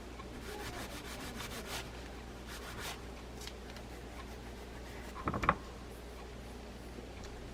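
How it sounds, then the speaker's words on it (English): Steel wool with penetrating oil rubbing the metal of a North Shore ST30 spin fishing reel, giving soft, scratchy back-and-forth scrubbing strokes up close, with a short clunky knock near the end. "I'm going to use a penetrating oil and a little bit of steel wool."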